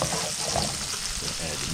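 Bread toasting in melted butter in a hot pan gives a loud, steady, close sizzle that fills the whole moment without a break.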